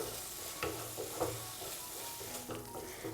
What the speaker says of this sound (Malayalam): നന്നായിട്ട് നമ്മുടെ ഈ മസാലയുടെയൊക്കെ ആ ഒരു പച്ച ടേസ്റ്റ് മാറുന്നവരെ മാത്രം ഒന്ന് വഴറ്റി കൊടുത്താൽ